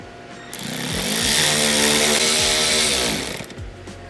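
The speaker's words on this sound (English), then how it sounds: "So I'm gonna go ahead and pre-drill these" A power drill whines up and pre-drills screw holes in car aero panels on a 300ZX, a loud, close burst that rises, holds for a few seconds, then spins down.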